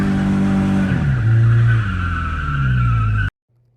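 A BMW E30 without power steering drifts with a loud, continuous tire squeal over steady engine drone for about three seconds, then cuts off abruptly.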